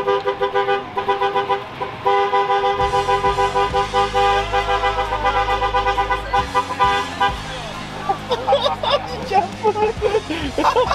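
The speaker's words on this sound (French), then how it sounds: "Fait qu'on va arriver en klaxonnant en malade." Car horns honk repeatedly and loudly up close during a prank in Quebec, a run of blaring tones that overlap and restart, with voices and chatter mixed underneath.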